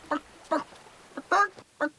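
A chicken squawking in short, sharp bursts, about six clucks with irregular gaps, close and clear against a quiet background.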